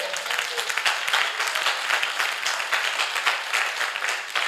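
Sustained crowd applause from a church congregation acclaiming the Lord during a sermon, dense and steady throughout without any talking over it.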